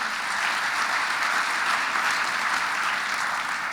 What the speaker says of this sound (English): Let's give Governor Bullock another big round of applause.